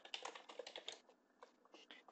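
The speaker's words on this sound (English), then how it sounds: "I can still type tags," Fingers tap quickly on a computer keyboard, a quiet run of close, light clicks with short pauses between bursts, with no talking heard over it.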